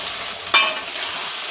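Spices and paste frying in oil in a kadai for Bengali ghugni, a steady soft sizzle with a sharp stir or scrape near the middle, close and alone.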